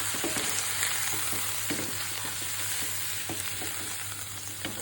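Turmeric, coriander and chili powders and salt sizzle in a pan for a dried bamboo-leaf fish dish, with a constant hiss broken by soft spatula scrapes and taps close by.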